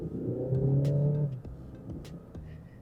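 A Kia Sportage diesel engine pulls hard under full throttle, a steady loud drone from inside the cabin that swells for about a second and a half, then eases into quieter road rumble.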